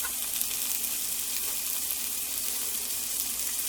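About half a cup of water pours into a hot pan of broccoli florets and peas with lemon zest, giving off a steady, bright hiss and sizzle for a few seconds. No one speaks.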